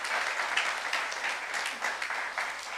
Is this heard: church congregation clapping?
yes